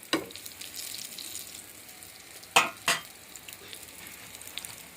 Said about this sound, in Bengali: এটা আমাদের ক্ষেতের বেগুন, ক্ষেতে আবাদ করছে, তেল দিয়ে ভাজি করতেছি আজকে।